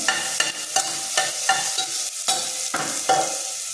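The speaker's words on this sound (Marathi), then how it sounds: "एक चमचा किंचितची हळद टाकायची आणि हे सगळं परतून घ्यायचं" Spices and turmeric for chana aamti are stirred and sautéed in a pan, a steady sizzle broken by regular scraping strokes of a spoon, close and alone.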